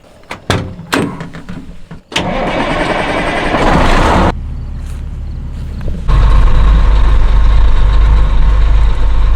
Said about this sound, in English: Start these trucks up, move them out.